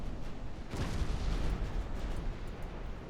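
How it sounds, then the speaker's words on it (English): A heavy boom and rumbling impact as an enemy battleship shell strikes the player's warship in a naval combat game, a broad low roar that swells near the start and lingers for several seconds with no talk. "enemy battleship hit me"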